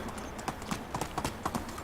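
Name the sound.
horse galloping hooves, from video game Medieval Dynasty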